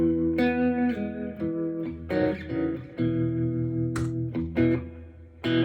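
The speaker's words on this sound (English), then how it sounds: "I have a little bit of delay with my timeline. And I also have a little bit of tremolo with the Mobius." Electric guitar notes played through a Strymon Timeline delay and Mobius tremolo ring out in sustained, layered phrases with repeating echoes, close and moderately loud with no talking.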